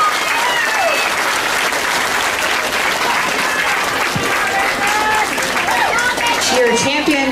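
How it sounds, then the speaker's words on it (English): Steady, dense applause from an audience at a youth swine show, honoring the champion showman, holding at full volume throughout with crowd noise and a voice over the clapping. "Let's give her a nice round of applause."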